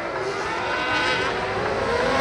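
Kart cross with a GMS chassis and Yamaha MT-09 motorcycle engine accelerating hard out of a corner at a Guénin race, a loud, continuous rising engine roar close to the track.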